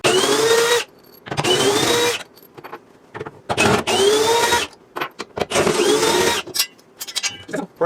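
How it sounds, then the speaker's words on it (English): A cordless drill backs mounting hardware off the rear of a TV in loud, whirring bursts of a second or so, separated by brief pauses and clicks. "I'm using the drill to take"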